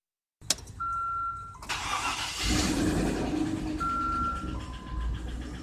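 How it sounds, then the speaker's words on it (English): A Land Rover Discovery 4.0L V8 with a collapsed lifter cranks and starts between electronic warning chimes, then settles into a steady running engine sound, heard close and alone. "Now we have a lifter that's collapsed, but I don't hear any rods. I don't hear any mains."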